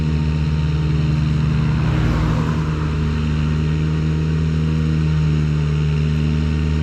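A Ventrac remote-controlled tractor mower crosses the top of a hill, its engine droning at a steady, fairly loud pitch the whole time, with a slight shift in tone partway through and no voices.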